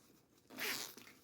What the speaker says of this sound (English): This is an actual zipper.